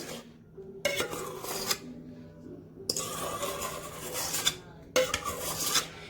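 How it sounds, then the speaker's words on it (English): Spoon scraping and knocking around a bowl while wet batter is mixed into dry ingredients for an orange slice cake, in rough bursts separated by short pauses, close and fairly loud with no talk. "we're going to mix it well with a spoon"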